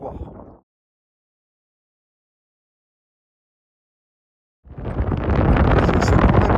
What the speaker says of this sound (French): Vent, brouillard et crachin froid.